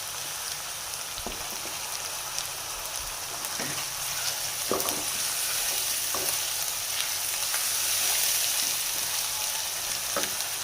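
Chicken frying and being stirred in a pan with ginger paste while making chicken with mash dal, a steady soft sizzle with occasional scrape and clatter of the spoon, no talking.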